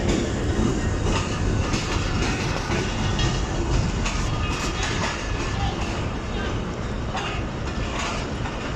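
Jaffar Express pulling in at Multan Cantt railway station, a steady loud rumble of rolling stock with rhythmic wheel clatter and occasional squeal throughout, faint voices mixed in.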